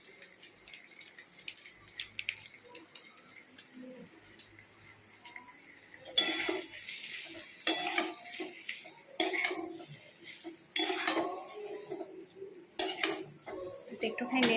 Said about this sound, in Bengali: এবারে আলুটাকে ভালো করে কষিয়ে নেব মশলাগুলো দিয়ে।